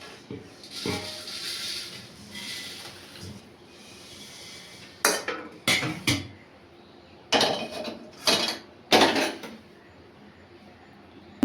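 Metal pan and utensils clatter and scrape while chivda roasts at home, with soft rustling stirring followed by several distinct sharp clanks of spoon against pan, close and without talk.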